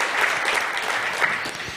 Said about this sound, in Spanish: Vamos a dar un fuerte aplauso al Señor en esta tarde.